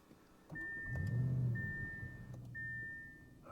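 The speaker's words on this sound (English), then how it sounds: "Now let's take the RS6 Avant Performance for a drive. All right, let's fire it up." An Audi RS6 Avant Performance wagon, a 2024 model, starts up with a low, swelling engine rumble that settles into a steady idle, while a thin, steady chime sounds over it in several long tones.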